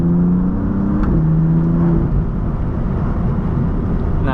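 A BMW F80/F82 M3/M4 inline-six powering out of a corner with a GTS transmission tune: a loud, steady engine drone with rising tones early on, sustained and close throughout.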